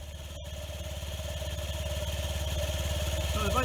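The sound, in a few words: scooter engine idling with new exhaust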